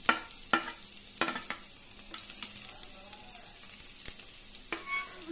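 Cumin seeds and finely chopped garlic dropped into hot oil, crackling and sizzling close by, with sharp clinks and scrapes of a spoon against the pan over a low frying hiss.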